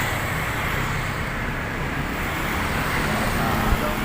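Steady highway traffic rolls along the road past Aguinaldo Park in Tanza, Cavite, a continuous, fairly loud wash of passing vehicles with no pauses.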